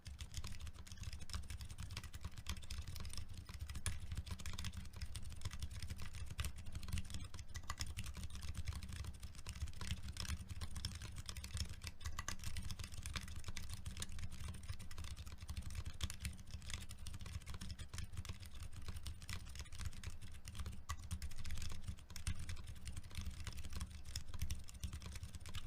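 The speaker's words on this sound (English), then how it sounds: "Sounds like a keyboard." Continuous typing on a Ducky Sidewinder keyboard fitted with iRocks brown tactile switches, a dense, steady patter of quiet keystrokes heard close and alone, with no voices.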